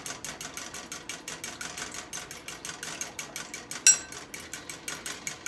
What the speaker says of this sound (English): And then whisk this. Whisk it really good.